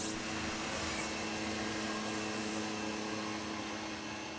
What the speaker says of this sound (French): la firme Hoover innove encore en créant son aspirateur Constellation, surnommé Sputnik